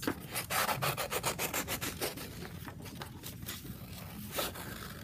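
Scissors snip and rasp through paper while cutting out circles for a kindergarten melted snowman craft: close, continuous scratchy cutting with quick repeated strokes.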